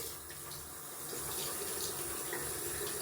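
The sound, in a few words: water rinsing shaving soap off a razor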